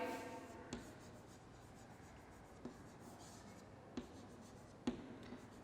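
Chalk or marker writing on a classroom board, faint scratchy strokes with a few sharper taps spaced irregularly against quiet room noise.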